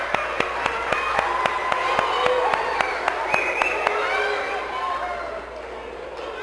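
An audience at a summer program talk applauds with sharp, fairly regular claps that fade toward the end, while voices murmur underneath.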